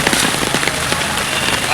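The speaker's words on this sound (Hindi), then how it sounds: "आज 2 घंटा से बारिश हो रहा है।" Heavy rain falls in Banaras during a flooding downpour, making a dense, steady hiss and patter of drops that fills the whole clip, with a voice faintly present underneath.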